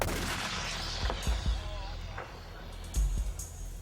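Artillery guns fire shells in a few heavy booms, two close thuds around the middle and a louder blast near the end, over an outdoor rumble.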